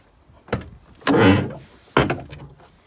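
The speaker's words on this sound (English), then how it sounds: "Creaky door, back of use, want some grease on there, I would suggest, on the hinges." A creaky 1999 Ford Iveco 7500kg truck cab door creaks and groans open on ungreased hinges, with a short knock before it and a heavy clunk after, close by and alone.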